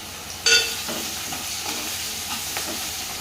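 Green chillies and onions fry in a pan with an even, close hiss, opened by a brief metallic clink and followed by a few faint stirring scrapes.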